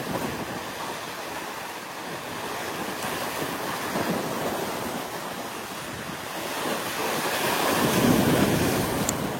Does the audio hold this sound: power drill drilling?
no